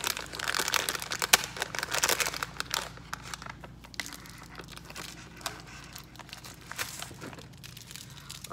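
Plastic packaging for a mystery squishy toy being torn and opened, giving close crinkling and crunching bursts that come in clusters early on and ease off into quieter rustles.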